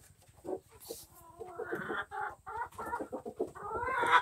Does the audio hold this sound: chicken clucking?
yes